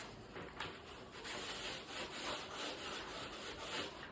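Steady scratchy abrasive rubbing, sandpaper worked back and forth over a hard plastic edge in repeated strokes, close and continuous with no talking.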